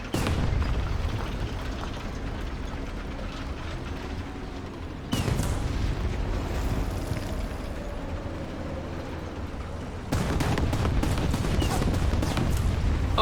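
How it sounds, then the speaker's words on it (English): Artillery strike explosions land during a War Thunder tank battle fought in a Panther D. Heavy muffled booms and crackling impacts arrive in bursts over a constant low engine rumble, with abrupt jumps in intensity. "another artillery strike"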